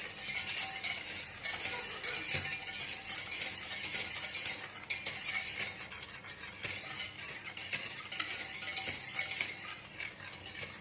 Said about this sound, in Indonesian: campur semua bahan-bahan yang kering. Gula pasir, agar-agar, garam. Ratakan terlebih dahulu.